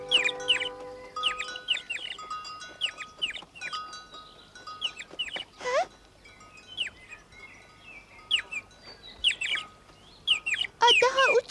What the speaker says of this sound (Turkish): Küçük bir kuş.